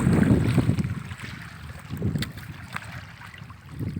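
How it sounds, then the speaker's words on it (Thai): Mild sea waves washing in soft, uneven surges with light wind buffeting nearby, close and fairly loud, with no one talking. "คลื่นไม่แรงมากลมไม่แรงมาก"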